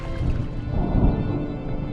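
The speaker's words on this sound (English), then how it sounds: "Was that thunder? Still distant." Distant thunder rolling over the water in the game Draugen, a brief low rumble that swells and fades, heard alone without voices.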